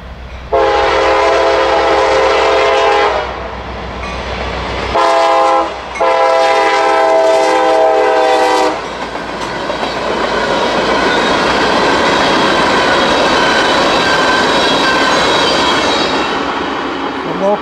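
BNSF and CSX freight trains meeting, with a loud, close air horn sounding in long blasts followed by the roar and rattle of railcars passing steadily.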